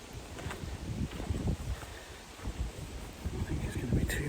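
Gusty wind buffeting the microphone in low rumbling bursts, rising and falling over a few seconds outdoors at an aqueduct near a water mill.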